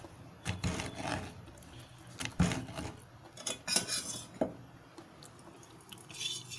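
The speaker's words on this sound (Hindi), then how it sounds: "अच्छी क्रंची आवाज आ रही है मूंग की दाल की" Fried Haldiram's moong dal being crushed close up, giving irregular crisp crackles and crunches in short clusters over a quiet background.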